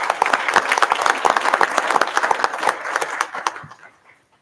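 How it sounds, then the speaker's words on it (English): A school board meeting audience gives another round of applause for recognized people, a close, dense burst of clapping that carries on steadily, then thins out and fades to near silence over the last second. "give all of the people that were recognized another round of applause"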